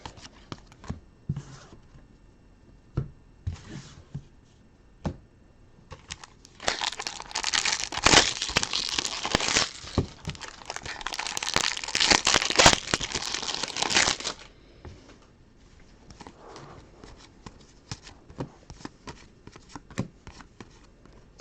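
Packing paper is crumpled up close during baseball card breaks, a loud crinkling burst lasting several seconds amid quieter rustling and handling noises before and after.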